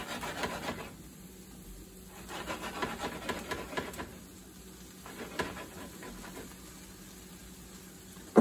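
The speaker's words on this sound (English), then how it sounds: "just go ahead and give it a stir, check it" Onions and mushrooms being stirred in a pan for beef quesadillas: a spatula rasps and scrapes in repeated strokes, with short quiet gaps between bursts. No one speaks.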